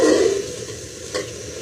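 Food frying in oil for a green-masala chicken breast dish with feta cheese, capsicum and boiled eggs, a steady soft sizzle that starts louder and settles into a quieter hiss, with one brief flare near the end.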